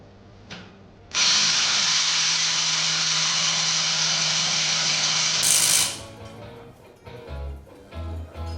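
A handheld power impact wrench on a tool display runs in one loud, steady burst of several seconds before cutting off, followed by scattered clanks and handling knocks.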